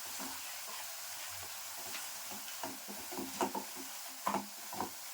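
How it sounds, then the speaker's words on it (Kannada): Curry leaves and a spice mix sizzle in hot oil for mango rice, with a steady hiss and a few louder crackles and scrapes of stirring near the end. "ಇದನ್ನೊಂದ್ಸಲಿ ಫ್ರೈ ಮಾಡ್ಕೊಂಡ್ಬಿಡೋಣ"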